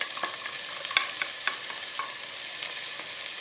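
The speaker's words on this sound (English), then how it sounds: "I want the jalapeños to soften and the garlic and the onions to continue cooking" Minced garlic, chopped onions and finely chopped seeded jalapeños frying in a pan for chili, a steady close sizzle broken by scattered clicks of stirring, with no voices.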